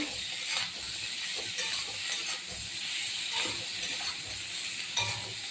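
Ginger is stirred into potatoes and soya chunks frying in a pan for a vegetarian dish: a steady close sizzle with soft scraping stirs running throughout.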